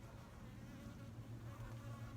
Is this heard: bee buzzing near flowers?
yes